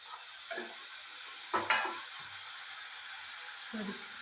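Sliced bitter gourd, ginger, green chilli and onion are stirred in a pan with salt, producing a few soft scrapes and one brief louder clatter of the spoon over a faint low sizzle.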